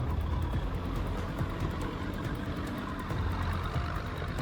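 A Sherp ATV's 44 HP diesel engine roars steadily up close as its four huge tires, nearly 1.6 meters tall, churn into soft ground, a dense continuous rumble with no voices.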